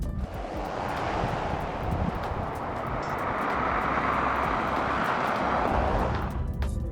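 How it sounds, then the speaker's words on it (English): Steady broadband road and tire roar fills the cabin of a 2023 Hyundai Elantra driving on a wet road, constant and moderately loud throughout. "There's a little bit of tire noise coming in"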